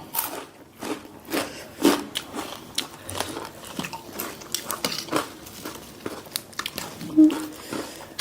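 Someone eats crunchy Thai papaya salad with snail heads, with close, wet biting and crunching chews in irregular bursts and occasional utensil clinks, while a person talks between mouthfuls.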